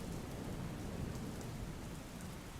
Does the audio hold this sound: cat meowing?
no